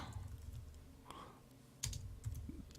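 A few keystrokes tap on a computer keyboard, spaced and faint, with low hum and rumble from a voice underneath.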